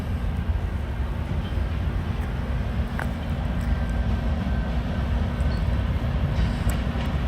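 Steady rumbling roar of a 9000 series rebuilt locomotive train passing at a rail yard in Roseville, continuous and fairly loud throughout with no breaks, a faint squeal briefly rising midway.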